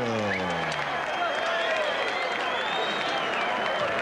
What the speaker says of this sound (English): let's have a round of applause for a great display of courage